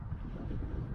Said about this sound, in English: It's a pretty strong wind.